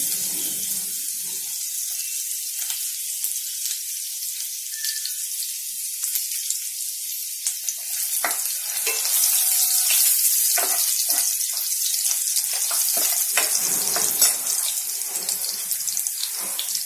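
Steady, hissing crackle of garlic sizzling in hot oil with cumin, continuous and fairly loud, with sharper pops and spits growing busier toward the end.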